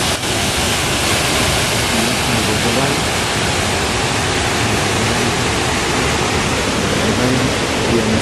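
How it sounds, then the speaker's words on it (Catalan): A waterfall in the Irati forest roars close by, a loud, unbroken wash of rushing water that fills the whole clip, with a voice faintly audible beneath the torrent. "i tornem a la cascada"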